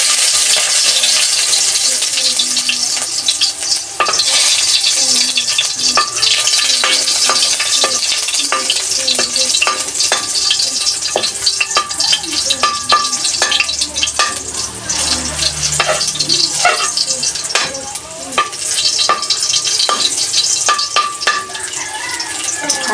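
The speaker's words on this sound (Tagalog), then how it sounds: "Ilagay na po natin ang bawang." Garlic sizzling loudly in a hot pan while a utensil stirs it, with continuous frying crackle and scraping, clinking stirs close up throughout.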